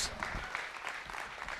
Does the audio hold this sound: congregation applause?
yes